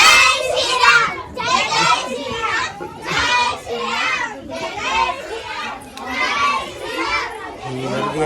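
Excited children shout and cheer in repeated bursts while climbing to a temple in Hampi, loud and close, with a crowd's chatter around them.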